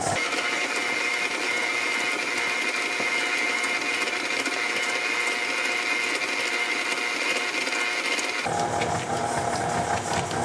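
A stand mixer fitted with a paddle attachment runs on low, creaming sugar in the bowl: a continuous close motor hum with a slight whirring rattle, dropping in tone abruptly toward the end as the speed changes.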